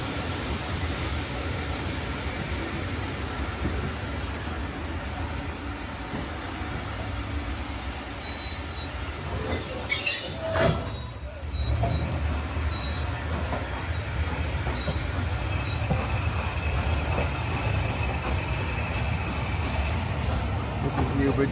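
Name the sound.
train shunting near Newbridge level crossing, Esk Valley Line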